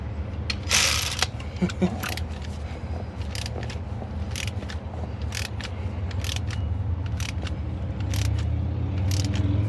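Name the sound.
old 1/4-inch ratchet turning bolts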